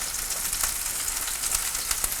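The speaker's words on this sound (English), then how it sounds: "you're not trying to cook the meat through, you're just browning it" Beef stew meat browns in a hot pan, giving a steady, close sizzle and crackle of frying with no voices over it.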